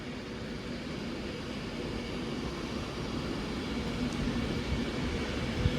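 An Avanti West Coast Class 390 train, unit 390-121, passes bound for London Euston with a steady broadband rumble that builds slightly toward the end, fairly close and continuous, with no voices.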